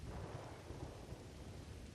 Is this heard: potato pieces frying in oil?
no